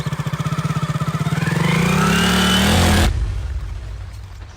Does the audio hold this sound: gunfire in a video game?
no